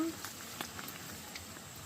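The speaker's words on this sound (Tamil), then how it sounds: "ரைட் இது கொதிக்கட்டும்" Faint bubbling and popping from a pot of cardamom tea simmering, quiet and close, with irregular small bursts over a soft steady hiss.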